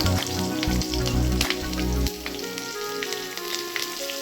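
Nigella seeds and green chillies hitting hot oil for tempering, a loud, dense crackling sizzle that spits hard for the first couple of seconds and then settles into a softer, steady frying hiss.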